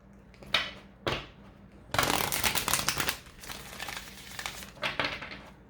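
Oracle cards from a Soul's Journey deck being handled and shuffled, several quick papery riffles and crinkles, then a longer burst of dense shuffling, close and fairly soft with no talking.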